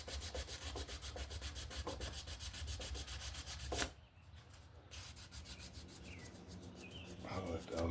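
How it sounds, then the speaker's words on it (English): Brass on a hidden-tang deer antler knife is rubbed with 1000 grit sandpaper in steady back-and-forth strokes for about four seconds, then the scratching turns quieter and sparser until the end. "that 1000 grit just shines that brass up so good"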